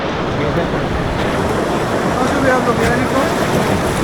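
Rushing river water splashes steadily around a raft on a river in Manali, with a continuous broadband roar of close flowing water and wind across the microphone throughout.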